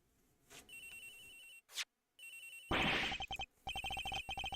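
In a courtroom detective video game, a telephone rings with repeated electronic trilling bursts separated by short gaps, clear and fairly loud.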